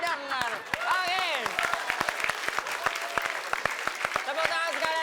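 Audience applause for comedy guests at an Indonesian stage show, sharp claps scattered across several seconds while someone talks loudly over them with animated, pitch-sliding speech.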